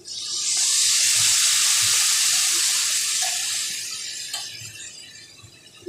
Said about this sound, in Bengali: পরিমাণ মতো জল দিব, দিয়ে ভালো করে মিশিয়ে দিই।